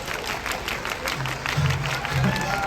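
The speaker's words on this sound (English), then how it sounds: "You didn't have to applaud for me." Cruise ship passengers clap and applaud together in a steady, dense patter that swells slightly as it goes on.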